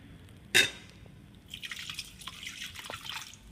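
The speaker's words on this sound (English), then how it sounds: "Now I pour the beer in." A sharp clink followed by a soft, steady pour of beer splashing into a bowl, close up and fairly quiet.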